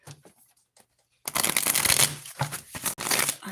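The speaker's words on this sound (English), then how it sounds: "I'm going to give it one more shuffle." Tarot cards being riffled and shuffled by hand at a card reading: a few soft taps, then a dense, loud flurry of papery riffling in bursts with brief pauses between them, no talking.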